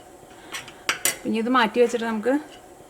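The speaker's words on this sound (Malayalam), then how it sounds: "അതിന് വേണ്ടിയിട്ട് വേറൊരു പാത്രം വയ്ക്കാം" Metal cookware clanks and scrapes a few times close by, a pot set down on a stove and shifted with short ringing clinks, ready for frying vermicelli for semiya payasam.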